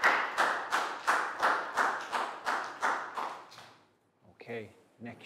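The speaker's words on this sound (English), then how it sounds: "Big round of applause for Dan" A Year 3 maths class claps for a pupil in about ten rhythmic, evenly spaced claps, close and fairly loud, then stops, and a few voices talk afterward.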